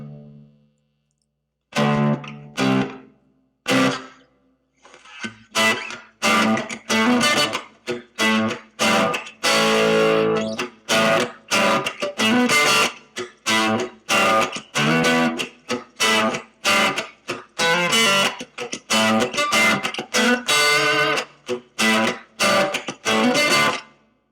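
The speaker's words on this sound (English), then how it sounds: "That's just a straight like hall reverb" Fender Champion 20 guitar amp with its plain hall reverb effect, a close electric guitar playing a run of strummed chords and picked notes, each ringing into a short wash of reverb tail.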